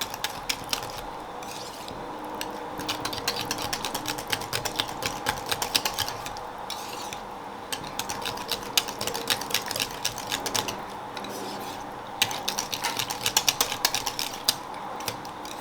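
Thick pumpkin spice dump cake batter being whisked by hand in a bowl, making a rapid, irregular run of soft clicking and scraping strokes that comes in busy bursts at close range.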